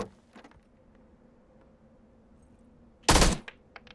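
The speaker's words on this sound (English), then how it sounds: "I shot you in the foot" A single loud burst of gunfire in PUBG (PlayerUnknown's Battlegrounds) erupts near the end after a quiet stretch, with a few sharp, fainter shots following.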